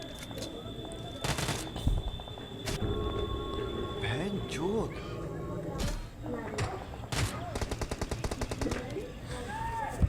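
Gunfire in a battle royale video game on the Livik map: bursts of automatic fire and single shots, loud and near, with voices talking over the shooting.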